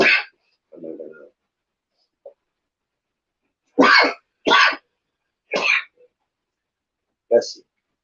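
Several sharp, explosive sneezes in a row, loud and close, separated by silence, with a softer muffled sound early on.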